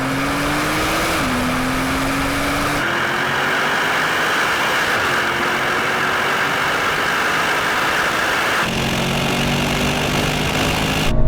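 A Brabus 900 Rocket R and 900-horsepower AMG cars accelerate hard in third gear from 80 km/h in a rolling drag race, engines droning loudly with rising tones that step up through shifts, continuous and close throughout.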